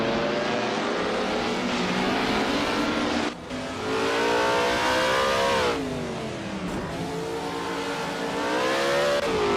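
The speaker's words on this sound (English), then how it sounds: "It's a classic V12 with a legendary sound" A Ferrari 555 F1 with a V12 engine in a racing video game screams at high revs, its loud, steady tone sliding up and down through gear changes and a brief dip, continuous and close.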